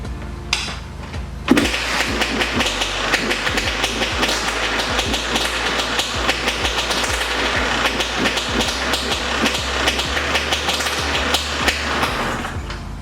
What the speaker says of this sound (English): Heck yeah, it starts. It's loud though. This pipe is very loud.